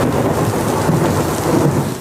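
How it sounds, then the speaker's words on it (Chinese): Afternoon thunderstorm over a city with heavy rain and rolling thunder, a loud continuous downpour hiss under deep rumbling, dense and close with no voices. "双北下起大雷雨，闪电打雷不断"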